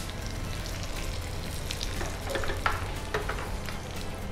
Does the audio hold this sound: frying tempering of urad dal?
yes